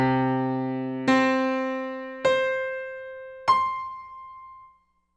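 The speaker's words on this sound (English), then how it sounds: "Here's what it sounds like if you play octaves," Octaves played one after another, four clean sustained tones each struck sharply and stepping upward in pitch at about one-second intervals, each decaying before the next, alone and clear.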